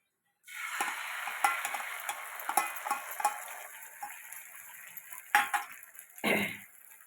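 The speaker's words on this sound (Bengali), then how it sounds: "ডিমের মামলেটটা হতে থাকুক" Egg omelette sizzles in a frying pan, a steady crackling fry punctuated by clinks and scrapes of a utensil against the pan, close and clear with no talk.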